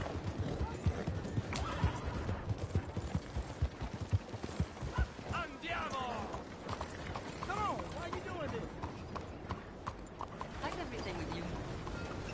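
Hooves clip-clop irregularly while a horse neighs and whinnies a couple of times in Red Dead Redemption 2, with a voice speaking over the sounds.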